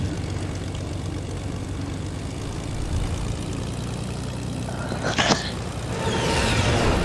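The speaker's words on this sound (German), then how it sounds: "Ja, ich kann ja die Flugzeuge fliegen." A propeller airplane engine drones steadily in a video game, a continuous broad roar that swells slightly toward the end, with a brief brighter whoosh partway through and no talking.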